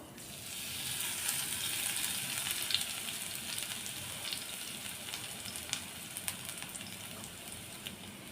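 Mustard seeds and crushed garlic fry in hot oil in a Kerala-style thoran, giving a steady, dense sizzle with scattered crackles and pops that runs without pause from start to finish. No one speaks.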